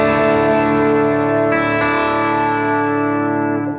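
A guitar through a distortion pedal into a clean Deluxe Reverb amp rings out as a loud, gritty sustained chord that is struck again partway through and then slowly decays.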